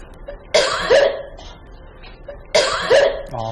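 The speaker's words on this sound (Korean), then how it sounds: "감기 기침 같은 소리가 많이 들리네요" Two separate harsh coughs, sounding like a cold with some phlegm, each a short burst followed by a rougher second push, spaced about two seconds apart and close by.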